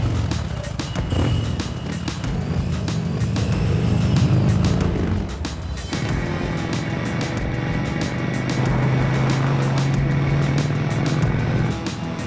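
Keanu Reeves' custom motorcycle rides past with a steady engine drone that shifts in tone midway, then settles into a sustained hum near the end; loud and continuous, with no speech.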